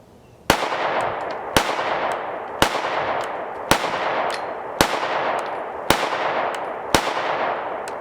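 Seven evenly spaced, loud handgun shots from a Canik Mete MC9 Prime at a shooting range, each a sharp crack about a second apart, with a reverberant tail that carries between the reports.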